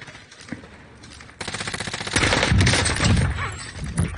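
Gunfire in a Call of Duty match erupts as rapid automatic bursts, loud and dense, with repeated sharp reports building into a sustained volley over a few seconds.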